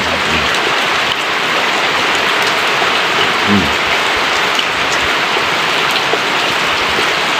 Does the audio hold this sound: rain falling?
yes